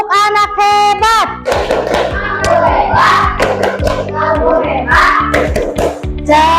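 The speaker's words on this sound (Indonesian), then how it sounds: "Tepuk anak hebat." A class of children performs rhythmic clapping chants in a school classroom, with sharp, patterned hand claps in short bursts alongside children's chanted voices that lead and answer the beats.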